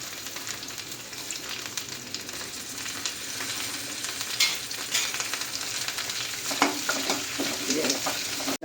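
Onions sizzle steadily in a pan at moderate volume for a sardine curry, with occasional stirring scrapes and crackles and no voices.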